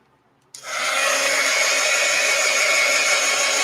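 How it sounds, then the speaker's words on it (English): A handheld hair dryer switches on abruptly and blows a steady, loud whoosh over a freshly painted art journal page. "let's go ahead and dry it and see what it looks like when it's a little drier"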